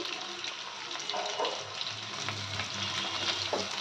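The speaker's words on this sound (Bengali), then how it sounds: "এবার একটু ভালো করে নেড়ে দেবো" Whole lote fish curry fries in a pan while being stirred, giving a loud, close, steady sizzle with occasional scraping and stirring sounds and no talk over it.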